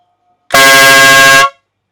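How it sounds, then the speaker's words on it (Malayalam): A single loud, sustained air horn blast lasting about a second, starting abruptly and cutting off cleanly, with silence before and after. "ഇതാണ് എയർ ഹോൺ എന്ന് പറഞ്ഞാൽ"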